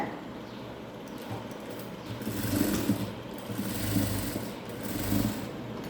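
Sewing machine running a strong hem stitch on a churidar with lining fabric, giving a continuous close whir that swells and eases in several surges.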